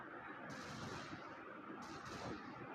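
Gunfire in a Wild West survival shooting video game, a dense, steady roar of shots and blasts running continuously at a loud, even level with no pauses throughout.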